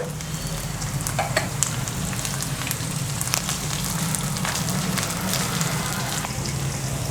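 Onion and tomato sizzle in a pan for a Kerala-style chicken curry, a steady close frying hiss broken by occasional scraping stirs and small taps, with no voices.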